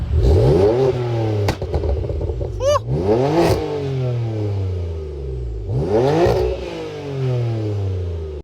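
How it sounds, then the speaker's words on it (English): A BMW M4 engine with an aftermarket exhaust revs hard several times, each rise and fall of the exhaust loud and close, with crackles and pops between blips. "I think it's the perfect amount of noise for this vehicle at all times."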